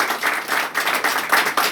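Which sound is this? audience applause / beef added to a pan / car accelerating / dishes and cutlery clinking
audience applause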